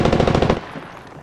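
Rapid automatic gunfire from the video game Apex Legends, a loud dense burst of shots lasting about half a second, then dropping away to a quieter tail of distant game sounds.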